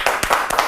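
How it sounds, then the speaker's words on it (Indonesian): A few quick hand claps from a small group on a talk show set, sharp close bursts in an uneven rhythm lasting under a second. "Tepuk tangan dong."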